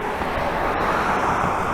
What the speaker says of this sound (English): I don't know if you can hear the roar of the traffic right now,